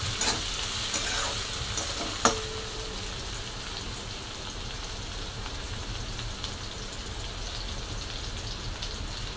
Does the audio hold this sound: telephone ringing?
no